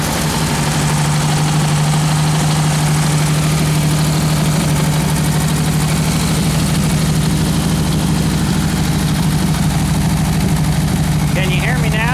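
A car engine with a freshly installed camshaft being broken in idles with a steady low drone and a fast, shaking exhaust pulse, continuous and close throughout.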